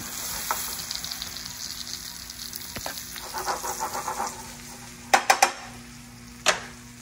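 Veal sizzling in butter in a hot pan, a steady frying hiss with a few sharp clinks and scrapes as the pieces are flipped near the end.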